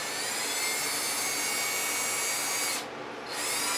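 A power drill whirs steadily, boring pilot holes into cherry wood, running continuously with a brief dip in pitch and loudness near the end.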